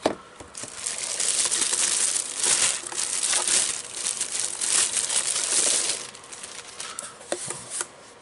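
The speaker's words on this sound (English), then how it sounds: "Let's get the plastic off." Plastic wrapping crinkles and tears as it is peeled off a Wyze smart Bluetooth scale, a close, steady run of crackling with sharper rustling bursts throughout.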